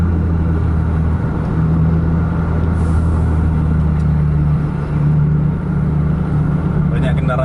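A bus engine drones steadily as it pushes for an overtake on a straight road, a loud, constant low rumble with little change in pitch, and talk over it.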